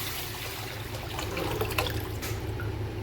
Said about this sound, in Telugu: పచ్చి పులుసు ఇందులో పోయాలి